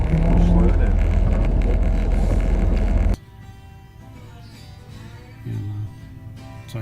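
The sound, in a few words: car power steering pump groaning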